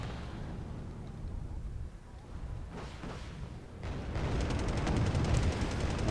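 Heavy gunfire and artillery crackle in a Wargame Red Dragon battle involving OT-810 half-tracks, a steady dense rumble that grows louder and busier partway through, with rapid bursts layered over it.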